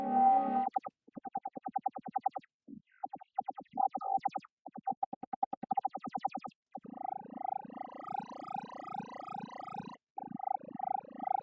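A dubstep synth tone heavily processed by the Bismuth plugin plays as choppy, rhythmic pulses that grow into dense, buzzing, wobbling bursts, clean and up front with no talking.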